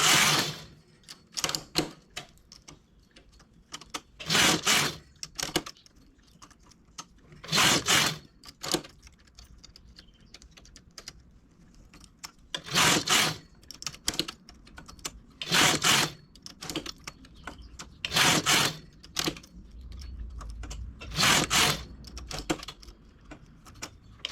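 A knitting machine carriage is pushed back and forth across the needle bed while working a lace stitch with a large transfer tool, making repeated rattling, clattering passes, each a second or so long and separated by quiet pauses.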